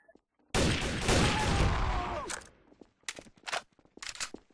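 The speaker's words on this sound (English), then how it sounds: "Who's shooting?" Gunfire in the video game Trouble in Terrorist Town: a loud sustained burst of shots lasting about two seconds, followed by several separate sharp shots.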